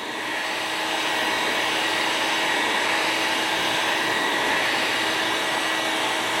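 A heat gun blows with a steady, close whooshing hum while warming the vinyl graphics stripe on a 1993 Chevrolet pace truck so it can be peeled off, running continuously with no talk.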